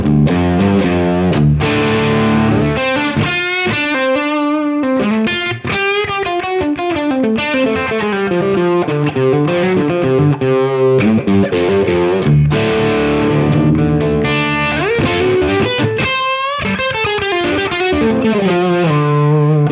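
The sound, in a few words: electric guitar through Line 6 Helix Pillars Overdrive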